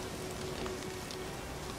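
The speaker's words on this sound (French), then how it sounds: "Il fait du vent, il pleut" Rain falling in the video game The Witcher 3, a dense, even hiss of drops on surfaces with a faint steady tone underneath, continuous and moderately quiet.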